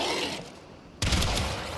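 A shotgun loaded with corrosive rounds fires in Warframe, a sudden loud broadband blast about midway that rings on as dense gunfire clatter, following a quieter stretch of game ambience.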